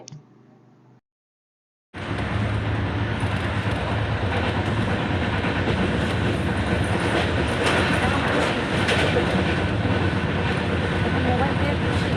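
A passenger train runs steadily on a journey from Assam to Bengal, heard from inside the carriage with the windows shut: a loud, continuous broadband rumble and rattle of the wheels after a brief quiet start.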